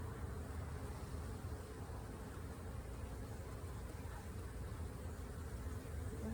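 Honey bees buzz steadily in and around an opened hive during an inspection, a dense low drone that holds at an even level throughout with no talk.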